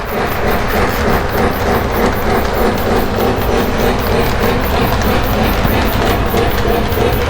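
A Lionel model train runs on layout track with a constant, dense whirring rumble and faint rhythmic clicking. The sound is steady and close throughout, with no talking.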